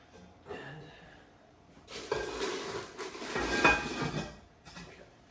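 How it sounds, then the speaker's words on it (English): A lid set back onto a cast iron pot, a muffled shuffle followed by a broader, louder clattering rustle of metal that swells and fades, then a brief final knock, close by and without speech. "I can now put my cast iron back on, my lid back on it."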